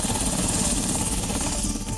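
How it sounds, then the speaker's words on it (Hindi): Malaysian police helicopter wobbling unsteadily in the air, a steady broadband rotor and engine roar held at constant loudness throughout, with faint voices mixed underneath. "देखिए कैसे हेलीकॉप्टर हवा में पतंग की तरह डोल रहा है।"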